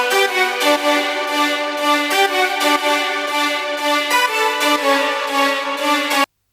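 Layered trumpet lead with a flute on top in a progressive house mix, a bright melodic synth line of repeated rhythmic notes, loud and alone, cutting off abruptly at the end.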